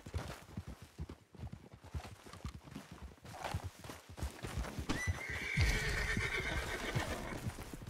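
Horse in the video game Red Dead Redemption 2, rhythmic clip-clopping hoofbeats close by, then a loud whinny over continued running hooves toward the end, no speech.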